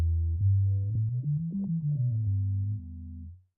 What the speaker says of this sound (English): We've got all the classics, a sine wave.